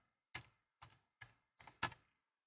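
Typing on a computer keyboard while entering data, five distinct close key strikes in an uneven rhythm, the last two coming in quick succession, with silence between.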